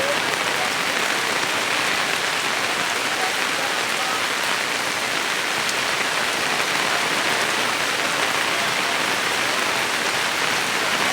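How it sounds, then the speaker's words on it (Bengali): Heavy rain pours steadily onto an umbrella at a village market in Cumilla, a dense, loud, unbroken drumming hiss that fills the whole stretch with no voices. "দেখেন কি পরিমাণ বৃষ্টি হলে আওয়াজ এভাবে হইতে পারে"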